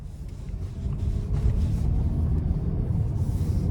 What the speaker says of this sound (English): let's go ahead and take this 2017 3-liter supercharged V6 Range Rover out on the road for a test drive